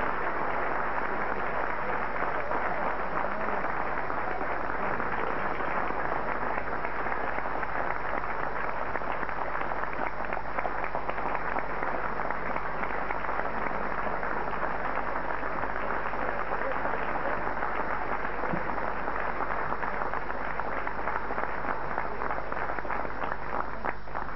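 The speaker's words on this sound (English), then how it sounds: "Give a rousing applause to my friend and our friend" An audience at an Indian American Friendship Council event gives steady, sustained applause, a dense even wash of clapping from a crowded room that holds without a break.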